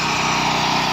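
Loud, continuous high-pitched whine of a power tool cutting off excess steel from an anchor bolt for a lamp post, a steady grinding drone holding throughout without pause.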